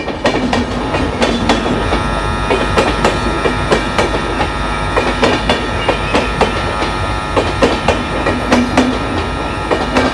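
Loud, close air-conditioned passenger train in motion with a continuous rumble and a rapid, regular clickety-clack of wheels over rail joints, no talking.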